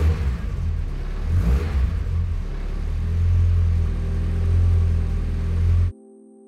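A car engine idles running slightly rich, a close, steady low rumble with mild fluctuations that holds for about six seconds before stopping abruptly.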